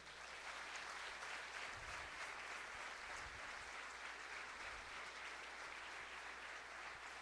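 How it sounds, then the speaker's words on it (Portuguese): A church congregation applauding, a steady, even wash of many hands clapping that carries on without a break, heard from a distance and faint, with no clear voices over it. "Você pode dar um aplauso para o Senhor?"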